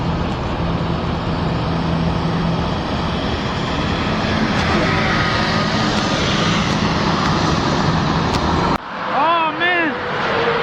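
New Flyer STM city bus passing on a Montreal street, a loud rumbling drive-by that builds and fades, followed by someone talking close by after it goes.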